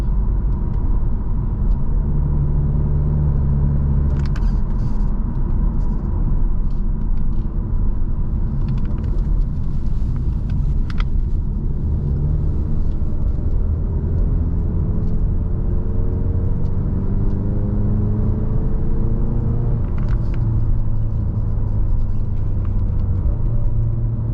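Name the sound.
car engine drone while driving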